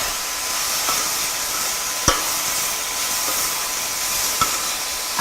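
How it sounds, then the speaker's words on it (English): Browning onions and pepper sizzle steadily in a pan for butter chicken, a loud, even hiss broken by a few sharp clicks of a stirring utensil. "Just going to stir that a bit."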